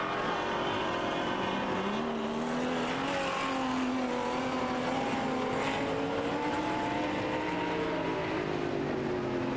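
Stock car engines roar continuously at Waikaraka Park speedway during a 1997 teams racing event, several cars' engine notes rising and falling together from mid distance under steady crowd and track noise.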